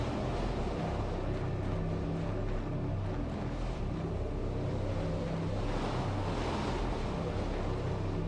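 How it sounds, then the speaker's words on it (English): Strong, steady wind roars and buffets without pause in an Antarctic survival video game, a loud broadband gusting rush that fills the whole stretch with no speech. "Good God, that's windy."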